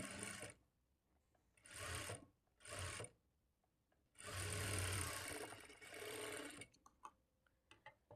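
A sewing machine stitching the end of a double-folded hooks strip, running in several short bursts of rapid whirring and a longer steady run, with quiet pauses between.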